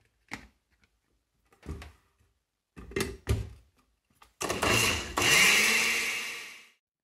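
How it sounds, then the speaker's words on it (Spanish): After a few scattered knocks and clunks, a blender starts and runs steadily for about two seconds, loud and close, blending milk and cooked pasta with condensed milk for a Venezuelan chicha, then winds down. "Y vamos a licuar."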